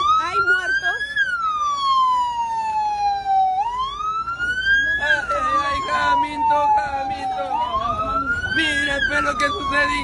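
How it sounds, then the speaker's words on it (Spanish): A loud SAMU ambulance siren wails up and down continuously, close by, at a bus terminal where a bus caught fire, with traffic and crowd noise underneath. "Están llegando las unidades de ambulancia del SAMU"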